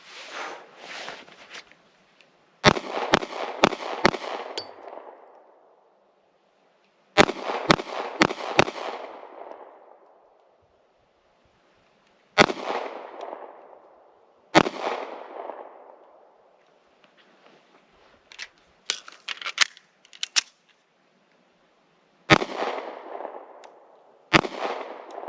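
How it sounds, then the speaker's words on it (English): A Ruger LCP MAX pistol fires full metal jacket rounds outdoors, with sharp, loud shots coming singly and in quick strings of three or four, each followed by a brief echoing tail and silent gaps between strings. "But let's get back to shooting."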